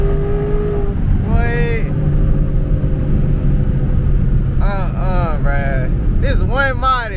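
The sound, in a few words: S650 Mustang GT engine with long tube headers revving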